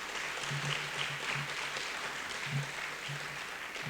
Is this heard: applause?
yes